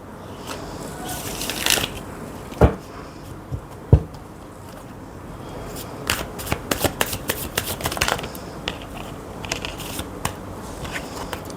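Tarot cards shuffled by hand in a quiet room, with a few sharp riffles early on and then a quick run of crisp snapping flicks, close and fairly loud with no talking.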